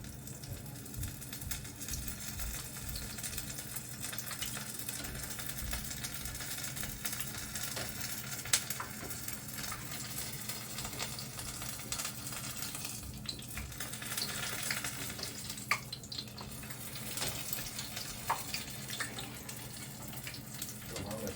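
Sliced mushrooms dipped in tempura batter frying in hot oil, a steady low bubbling sizzle that runs evenly for the whole stretch, quiet and continuous with faint kitchen clatter now and then.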